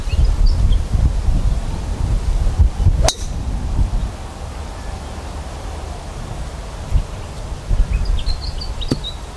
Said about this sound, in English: we got a really strong left to right wind here